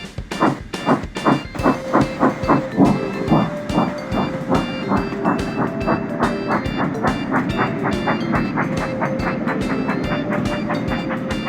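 Thomas the Tank Engine, a steam tank engine pulling goods trucks, rolls along the track with a steady, even clickety-clack of wheels that starts loud and near, then settles into a continuous rhythmic rumble.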